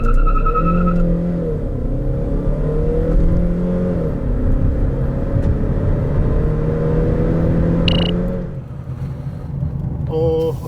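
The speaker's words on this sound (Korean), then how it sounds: "여기서 잠시 K7 하이브리드의 가속 성능에 대해서도 알아볼까요?" A 2019 Kia K7 hybrid accelerating on the road: a steady engine drone and rising whir heard from inside the cabin under continuous talk, with a few brief chimes and clicks near the end.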